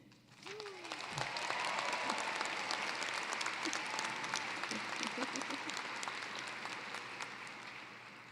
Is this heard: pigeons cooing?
no